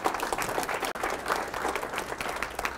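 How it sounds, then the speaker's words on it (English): Room of accountants at a professional update seminar clapping for event sponsors, full, close and fairly loud applause from many people, continuous with a brief dip partway through. "So one round of applause to recognize all of our great sponsors"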